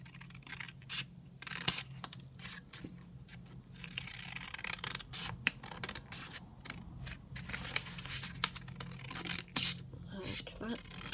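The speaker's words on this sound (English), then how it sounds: "So I'm just going to snip it down here." Scissors snip through a strip of background paper for a junk journal belly band, a few close, crisp cuts scattered among a speaking voice, rustling paper and a steady low hum.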